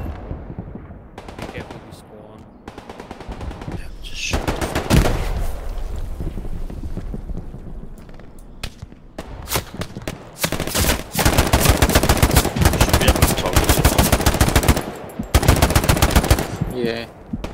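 Gunfire in the World War II shooter game Hell Let Loose comes in loud, rapid bursts of automatic fire and single sharp shots, close and dense, with brief quieter gaps and a player's voice speaking at times.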